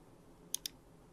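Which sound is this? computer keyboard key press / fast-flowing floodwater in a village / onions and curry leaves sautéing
computer keyboard key press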